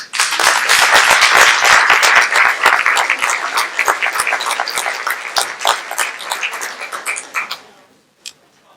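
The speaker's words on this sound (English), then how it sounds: "One more round of applause." An audience at a community celebration bursts into loud, dense applause that runs steadily for about seven seconds, then thins out and stops, with one last lone clap after the room falls quiet.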